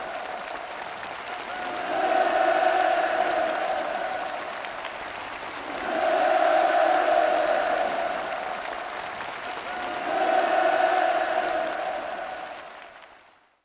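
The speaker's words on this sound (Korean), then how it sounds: "열광의 환호를 터쳐 올렸습니다" Crowd cheering and applauding at a Workers' Party of Korea Central Committee plenary meeting, a dense sustained ovation swelling in three big waves and easing off at the end, with no talk over it.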